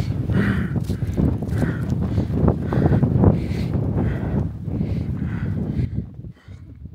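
Strong wind gusting across the summit of Mount Aragats in Armenia, roaring and buffeting the microphone in waves with a brief lull near the end.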